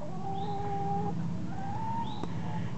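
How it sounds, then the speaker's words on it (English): Backyard chickens give soft, drawn-out tonal calls and low murmurs, heard close and quiet against a steady background hiss. "These mommy's chickens."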